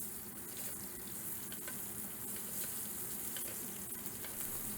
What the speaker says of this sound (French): En l'arrosant ainsi, je la bonifie tout en continuant à cuire le steak.